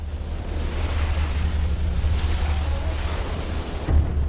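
Ocean surf breaks steadily along the Fiji coastline, a continuous rushing wash with a deep rumble beneath and some wind buffeting, ending in a slightly louder surge; no one speaks.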